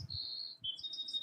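During a live kids' PE class, a voice imitates a bird call with a few faint, high, whistling chirps, quiet and close, with no talk over them.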